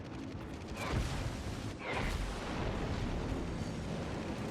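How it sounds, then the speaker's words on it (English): Airstrike explosions in the naval battle game World of Warships hit as heavy, booming blasts over a constant roar of battle noise, with two sharper impacts standing out, loud and close. "And yeah, there was an airstrike."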